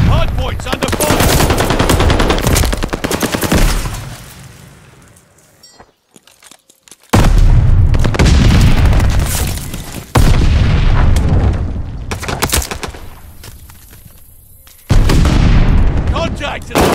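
Heavy bursts of gunfire and booming explosions from the video game Call of Duty: Vanguard, loud and dense in two long stretches broken by brief lulls, with a game voice calling out briefly.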